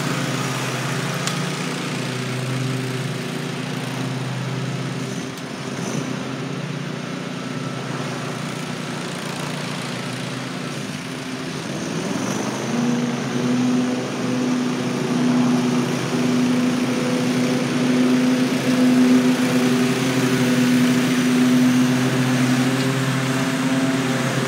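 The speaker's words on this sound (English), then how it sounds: "Let's get right into the mowing." A lawn mower engine drones steadily while mowing dry summer grass, loud and close, with its pitch shifting and settling into a firmer hum partway through, no talk.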